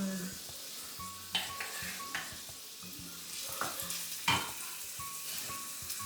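Perkedel potato fritters frying in oil in a pot, a steady soft sizzle close by with occasional stirring scrapes and small clinks of utensils.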